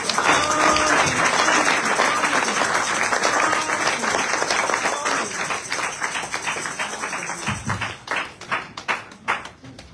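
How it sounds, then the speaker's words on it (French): A church congregation at a Sunday service applauds, loud sustained clapping that gradually thins into scattered individual claps toward the end, with a few voices mixed in. "Est-ce qu'on peut applaudir?"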